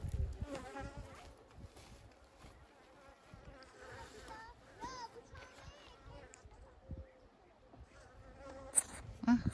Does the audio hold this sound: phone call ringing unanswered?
no